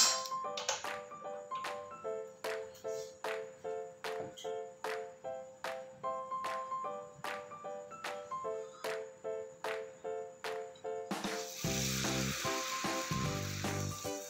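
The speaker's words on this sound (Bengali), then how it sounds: "তেলটা কিন্তু বড়া ভাজার জন্য পুরোপুরি রেডি" Dahi bara batter drops into fully heated oil in a home kitchen, sizzling in a steady crackling hiss, with a rhythmic tinkling of a spoon tapping a metal bowl over it before a louder burst of frying toward the end.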